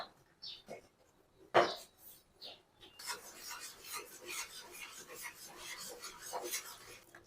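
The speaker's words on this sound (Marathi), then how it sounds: "पुरण घट्ट होईपर्यंत असंच चालवायचं आहे।" Thick puran of chana dal and jaggery being stirred in a pan, close scraping and rubbing strokes in an uneven rhythm, faint and intermittent, with brief quiet gaps early and denser stirring later.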